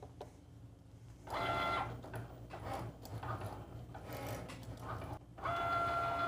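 A cutting machine drives a pen across paper, giving quiet whirring motor runs and short mechanical clicks that start and stop in bursts, close and faint, with no talk.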